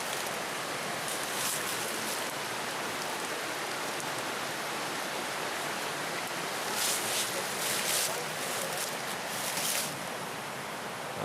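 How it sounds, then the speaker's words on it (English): Rushing water near a campground at night makes a steady, dense hiss that never lets up, loud and enveloping, with a few brighter surges of spray. "I want you to hear this rushing water."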